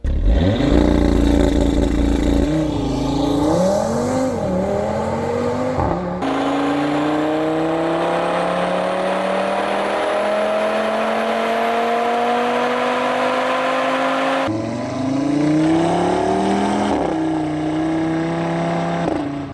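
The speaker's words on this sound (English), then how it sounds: "I'll be sure to give you guys a couple examples as far as some sound clips for the RS3." Audi RS3 engine revving loudly through a series of rising and falling pulls, with one long sustained climb in pitch across the middle, close and continuous with no talking.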